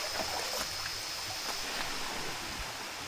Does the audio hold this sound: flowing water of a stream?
yes